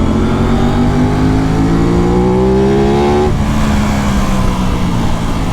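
A close, loud Aprilia RS 660 engine revs hard at wide open throttle on twisty canyon roads, pitch climbing steadily for about three seconds before the throttle eases and the note drops into a steadier drone.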